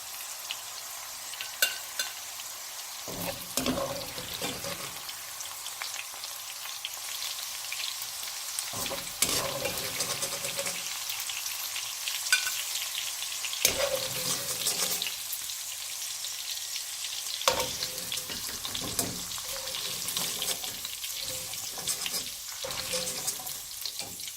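Okra (bhindi) fries in oil as a continuous close crackling sizzle, interrupted several times by louder stirring and scooping bursts, with no talk.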